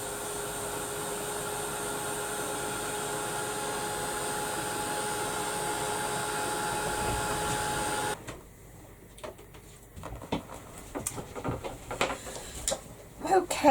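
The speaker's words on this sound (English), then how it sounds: "And I'll give it a quick blast with the heat gun." A heat gun blows with a steady, close hiss and hum for about eight seconds, then cuts off, leaving quieter handling clatter and small knocks.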